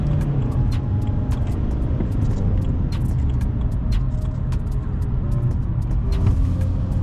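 A 15-year-old BMW 3 Series accelerating hard on a motorway, heard from inside: a loud, steady engine and road roar with tyre rumble and occasional clicks throughout, no talking.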